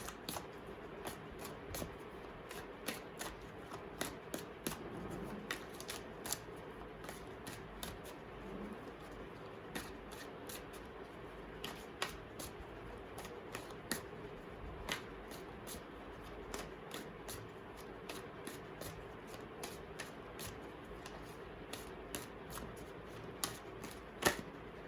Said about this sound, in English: I'll pick up some tarot cards to see a little more detailing.